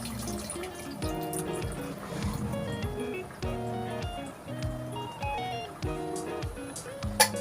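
Tamarind water is poured into a pot of boiling tamarind curry, a soft liquid trickle and splash over a low bubbling simmer, close and fairly quiet.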